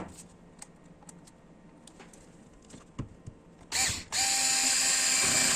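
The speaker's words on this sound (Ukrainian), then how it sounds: "Бачите, знову спрацьовує муфточка, все супер." A GTM SD3.6/5 cordless screwdriver with its clutch slipping: a few scattered clicks and taps, then a brief whir and a sustained loud ratcheting buzz from the motor and clutch, close up.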